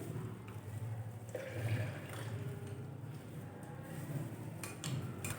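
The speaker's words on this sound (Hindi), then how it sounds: "तो 2 कप मैंने दूध लिया तो इसको डालते हैं।" Cold milk, two cups' worth, poured into a container over coffee paste for iced coffee, giving a steady continuous liquid splashing and gurgling that runs the whole time at moderate, close level with no talking.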